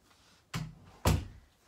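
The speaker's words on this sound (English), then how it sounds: "I'm going to close this door" A door is pushed shut indoors in a house, two solid thuds half a second apart, close and fairly loud against a quiet room with no talking.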